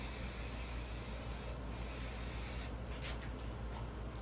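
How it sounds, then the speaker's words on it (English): Chrome spray paint hissing from an aerosol can onto the dash trim of a Chevelle during restoration, a loud continuous close spray with a few brief pauses near the end. "Spraying that trim that goes on"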